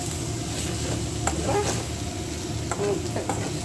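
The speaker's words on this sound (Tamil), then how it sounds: "வெங்காயமும் முட்டையும் தான் வெந்துக்கிட்டு இருக்கு" Onion and egg cook together in a pan over low heat, giving a steady, soft sizzle with a few faint stirring scrapes, close by and without talk.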